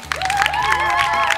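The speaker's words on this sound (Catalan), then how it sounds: "Un fort aplaudiment per elles que s'han guanyat." Applause from a crowd at a village summer festival in La Vall de Rafamans, dense clapping throughout with a faint voice over it.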